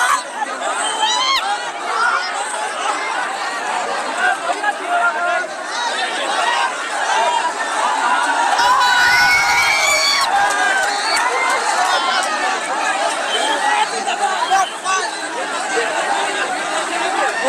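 A large crowd gathered at a political visit in Bihar, India, fills the air with dense, loud chatter and overlapping voices, a continuous close hubbub with occasional louder shouts rising above the babble.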